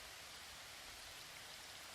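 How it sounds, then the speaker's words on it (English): Steady rain hiss, an even wash of soft noise with no distinct drops or breaks, faint and continuous throughout. "the quiet hum of the rain"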